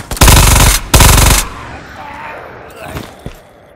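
Automatic gunfire in the VR shooter game Ghosts of Tabor, two loud close bursts of rapid shots in quick succession, then quieter distant noise.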